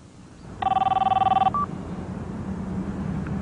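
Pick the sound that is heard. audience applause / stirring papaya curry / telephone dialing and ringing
telephone dialing and ringing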